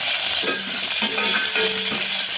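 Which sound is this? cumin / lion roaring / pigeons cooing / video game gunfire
cumin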